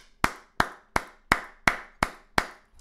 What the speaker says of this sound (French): Applaudissez-vous, moi je vous applaudis.